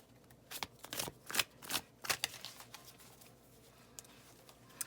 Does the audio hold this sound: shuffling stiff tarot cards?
yes